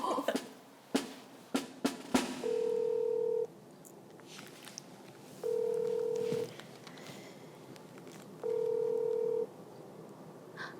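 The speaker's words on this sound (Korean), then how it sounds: "여기 선생님한테도 전화를 해볼까" A few dial clicks lead into a phone call in Korea, then a ringback tone sounds in three steady one-second pulses with long pauses between them, quiet in a calm room with a faint voice early on.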